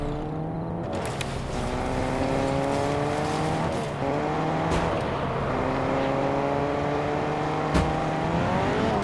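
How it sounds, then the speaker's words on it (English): A car driven in the Fortnite video game, its engine droning steadily and shifting pitch with revs, with tire noise throughout, close and continuous. "I'm in a car, by the way."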